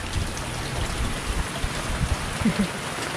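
Steady rain falling, a continuous even hiss with occasional heavier drops close by.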